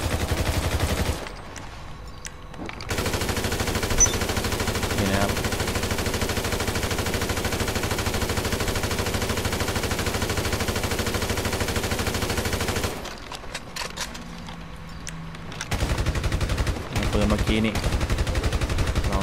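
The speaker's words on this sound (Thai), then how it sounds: "ให้ดูปืนนะก่อน นี่นะปืน" Gunfire from the GTA Online video game, long sustained bursts of rapid automatic shots with brief pauses between volleys, loud and close.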